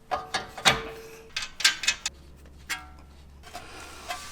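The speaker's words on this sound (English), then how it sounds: "Take off the castle nut." A castle nut being taken off a Jeep JL Wrangler tie rod end, sharp metallic ratchet clicks in short bursts separated by pauses, close and fairly loud, with a low hum beneath.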